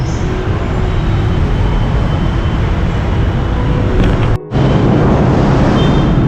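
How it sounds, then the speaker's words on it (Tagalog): Loud, steady rumbling din of a busy LRT terminal, with continuous low machinery and traffic noise and a brief dropout near the end. "Terminal ng LRT, sobra ingay."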